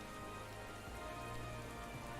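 Rain in the video game Final Fantasy XIV: a dense, steady hiss of rainfall on surfaces, constant and even throughout, with no voices.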